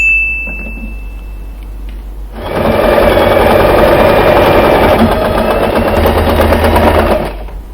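A sewing machine stitches lace onto a fabric zipper pouch, running in one steady, loud, rapid burst for several seconds before stopping.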